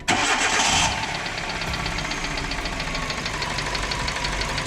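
Hyundai Getz engine running with a knocking fault: a rapid, even tapping tick over a steady idle, close and continuous, after a brief louder rush at the start.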